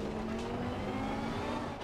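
Lamborghini race car engine in a racing video game on the Misano circuit, a steady sustained drone with a strong tonal hum, loud and continuous throughout with light tire noise, no talk.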